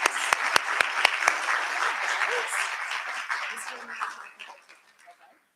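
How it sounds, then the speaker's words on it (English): Audience applause for school award winners at a board of education meeting, opening with a few sharp individual claps, then a sustained crowd clapping that gradually fades out, with some voices underneath. "Let's give them one more well-deserved round of applause."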